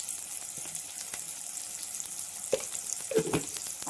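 Coriander powder, chili powder and turmeric fry in a pan with a faint, even sizzle, and a couple of soft stirring scrapes come toward the end.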